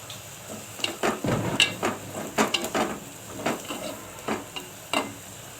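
Ivy gourd curry (dondakaya iguru), just dosed with chili powder, sizzles in a pan while a spoon stirs it, giving a string of sharp scraping clatters over a steady fry hiss.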